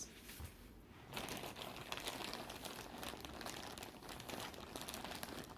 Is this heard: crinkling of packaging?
yes